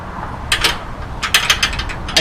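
A ratchet wrench tightens a sway bar drop-kit bolt on an FJ Cruiser suspension, with a couple of quick clicking strokes followed by a faster burst of ratcheting clicks, close and crisp.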